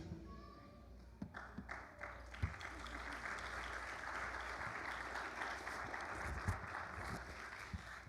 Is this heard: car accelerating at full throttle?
no